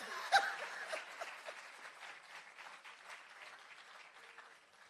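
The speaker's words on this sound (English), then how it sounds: "Clap me for that." Scattered applause from a graduation ceremony audience for a training course, fairly faint and thinning out, with a few chuckles and light laughter mixed in.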